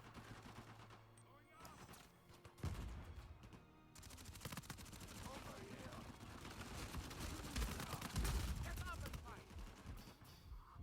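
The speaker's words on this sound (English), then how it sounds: "It's really not that powerful, but if you're up close, it's pretty good, because it just has that insane rate of fire." Rapid automatic P90 gunfire in the Uncharted 4 multiplayer game, sustained bursts layered with other game effects and a talking voice throughout.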